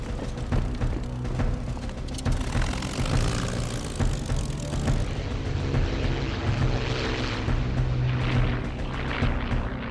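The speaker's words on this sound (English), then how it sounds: "6 Spitfires from 74 Squadron, based at Hornchurch, are scrambled." Spitfire fighter aircraft engines during the Battle of Britain era, a dense continuous propeller-engine drone, loud and steady for the whole stretch, with no speech.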